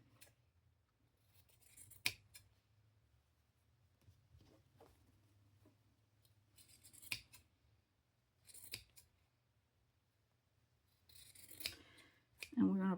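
Scissors snipping fabric pieces for a farm-themed bee quilt block, a few separate quiet cuts spread out in an otherwise hushed room.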